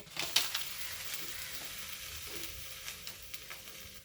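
An ottada rice cake frying in a pan, pressed down under a weight, gives a steady soft sizzle with a few faint clicks and scrapes, close and quiet, with no voices.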